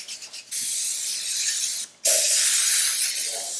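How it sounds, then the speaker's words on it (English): Two hissing bursts of cooking spray onto a Bundt cake pan, close up, the first lasting over a second and the second longer, separated by a brief pause. "I'm just going to spray this whole pan with this so the cake doesn't stick to it"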